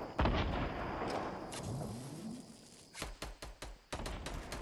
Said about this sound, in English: there's a lot of shooting here